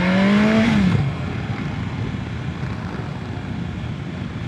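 A BMW S1000XR motorcycle (2025 model) revving hard: a rising engine tone climbs for about a second, then drops into steady loud wind roar and road rumble that fills the rest.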